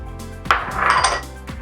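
Certified gluten-free oats tip into a mixing bowl for a gluten-free pear buckle coffee cake, making a short, close rustling pour that lasts under a second amid light kitchen clatter.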